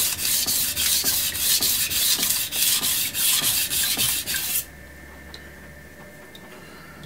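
Rhythmic back-and-forth strokes of a knife blade across a Suehiro Debado whetstone, about a dozen even scraping passes up close, then stopping abruptly into a quiet room.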